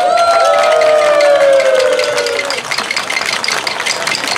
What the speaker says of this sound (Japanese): どうぞ皆さん、塩川町東若町内、関島町上高町内に大きな拍手をお願いします。